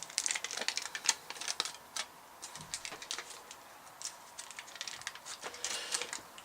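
Thin plastic foil from a Starbuzz hookah tobacco package is unfolded, giving a run of sharp, close crinkles and crackles in irregular bursts, with no voices.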